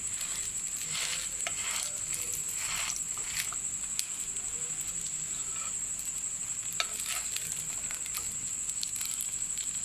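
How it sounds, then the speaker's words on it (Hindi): An egg shami burger patty fries in a pan with a continuous soft sizzle and scattered small crackles and pops, fairly quiet and close, with no talking. "इसको अच्छी तरह फ्राई कर लेंगे।"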